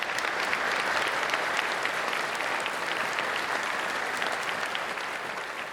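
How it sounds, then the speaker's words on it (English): A room audience at a moderated round-table Q&A with two doctors claps steadily and densely for several seconds, the sound close and even before it fades slightly at the end. "Let's give a round of applause to these doctors."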